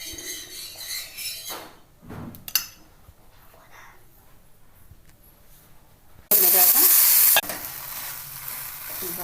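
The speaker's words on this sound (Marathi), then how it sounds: "आपण पाव भाजून घेऊ." Pav bread rolls toasting on a pan for pav bhaji. Scattered clinks and scraping give way to a sudden loud, hissing sizzle for about a second, then quieter frying continues.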